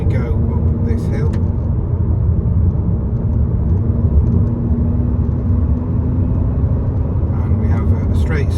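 A car engine in low gear climbs a hill on a country road, giving a steady, close, heavy rumble that holds evenly throughout.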